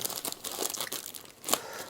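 Plastic packet from an Edifier M60 speaker box crinkling during unboxing, close-up bursts of crackly rustling in an irregular rhythm with a sharper crunch near the end, no voices.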